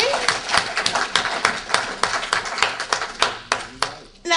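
Audience applause at a Pan-African forum, uneven scattered claps with distinct individual hand strikes in an irregular rhythm, fairly close, with a little laughter mixed in.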